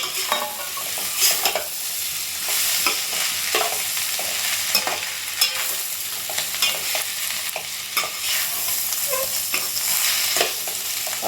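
Okra, egg and browned onions stir-fry in a pan for egg rice, a continuous bright sizzle broken by frequent close clicks and scrapes of a spoon stirring, with no talking.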